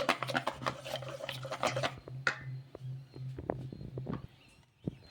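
Flour and milk batter being stirred in a bowl, quiet wet scraping and clinking strokes in uneven rhythm, with a low steady hum in the first half.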